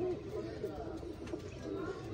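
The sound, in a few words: pigeons cooing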